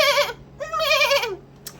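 A woman imitates a goat bleating with her voice, giving two wavering, nasal bleats in quick succession, close and fairly loud, followed by a brief breathy sound.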